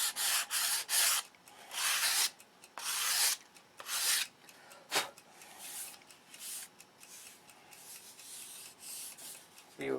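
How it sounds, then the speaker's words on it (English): Repeated rasping strokes of a long sanding block across aircraft wing ribs, coming in bursts with brief pauses, close and fairly loud. "I got it for sanding"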